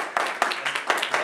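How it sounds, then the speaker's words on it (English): A film crew breaks into quick, scattered applause, several sharp claps bunching together over a second, close and lively, with voices mixed in. "Big round of applause for Coon."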